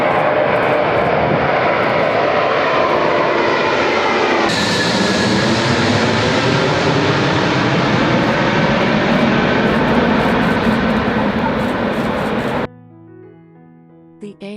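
Antonov AN-225, the world's largest airplane, taking off with a loud continuous roar of jet engines that builds in pitch and then cuts off abruptly, followed by faint music.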